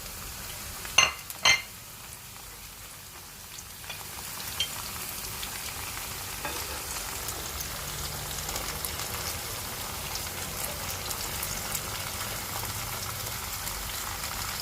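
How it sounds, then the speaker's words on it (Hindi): Onions frying in a pan, a steady broadband sizzle that runs throughout, opening with a couple of sharp clatters of ingredients or a utensil going into the hot oil. "प्याज ऐड करेंगे और उसको अच्छे से भूनेंगे।"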